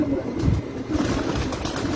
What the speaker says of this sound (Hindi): ये बटेरा कबूतर है जी माशाल्लाह